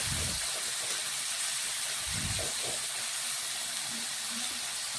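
Large prawns frying in hot oil in a wok for a jackfruit-and-prawn curry, giving a steady, loud hiss throughout with a few low bumps from the pan.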